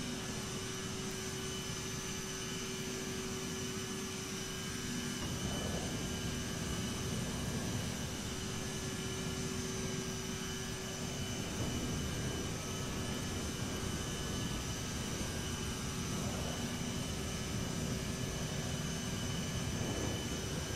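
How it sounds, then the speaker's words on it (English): A CRJ-700 jet engine in Microsoft Flight Simulator 2020 roars steadily from very close, a dense continuous whine and rumble with tonal hums and no breaks. "I've never sat this close to an engine before."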